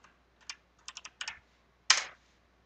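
Short bursts of keystrokes on a computer keyboard during 3D drawing software work, a few quick clicks close and quiet, ending in one sharper press.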